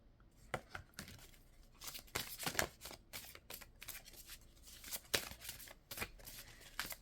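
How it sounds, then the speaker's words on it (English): Oversized tarot-style cards shuffled by hand, a faint, uneven run of papery riffles and slaps that continues for several seconds. "these cards is too big for me to be trying to shuffle"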